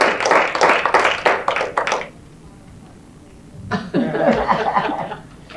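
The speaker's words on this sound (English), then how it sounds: "Let's give them a hand of applause." Seminar audience clapping for presenters at a regenerative agriculture event, a burst of hand claps with some laughter for about two seconds, a pause, then a second round of clapping and chatter.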